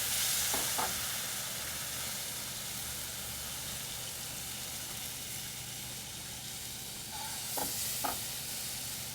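Warm milk stirred into a hot flour and butter roux, giving a continuous sizzle and hiss broken by a few light knocks of the spoon against the pan.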